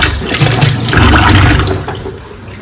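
Running tap water pours steadily while vegetables such as pointed gourd and cucumber are rinsed in a home kitchen, a continuous wash of splashing that fades slightly toward the end, with no talk.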